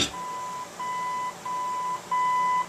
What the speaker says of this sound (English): After you get the setting that you want, you just stop, it will beep